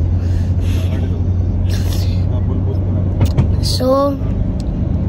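A bus engine rumbles on a road trip from Dubai to Saudi Arabia, a steady low drone with brief hissing bursts and a rising tone, while a person speaks over it.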